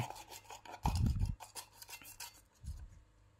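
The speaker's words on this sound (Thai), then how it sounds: "ใช้คัตเตอร์นะครับ คมๆหน่อย กรีดเข้าไปในรูนะครับ เจาะเข้าไป" A sharp utility knife slices through a sticker into the hole of an axe handle, making short scraping, rasping strokes. The strokes come in quick, close bursts.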